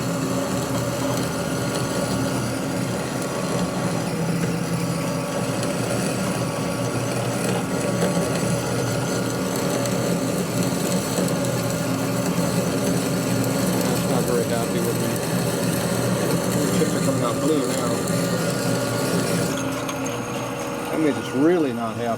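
A drill bores into a 1992 Harley-Davidson 80ci Evo motor case, a steady whining, grinding drone with faint tonal overtones that runs unbroken and shifts slightly near the end.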